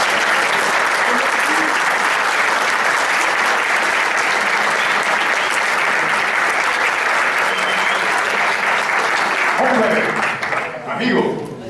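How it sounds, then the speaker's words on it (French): Sustained, loud audience applause fills a coaching round-table event, a thick even wash of clapping that runs without a break for about ten seconds before easing, with a voice coming in at the end. "vous applaudissiez Mohessine pour cette merveilleuse aventure de BMH Coach"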